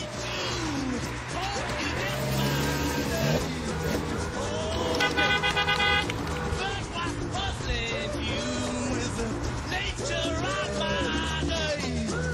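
Short toots from the horn of an Alpine car during the Coupe des Alpes rally, sounding over engine and road noise with crowd and voices around.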